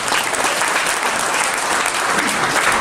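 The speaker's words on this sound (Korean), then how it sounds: "박수 한번 크게 보내주시죠" An audience at a Daewoo Forum lecture breaks into loud, dense applause that stays steady and sustained throughout, close and filling the room.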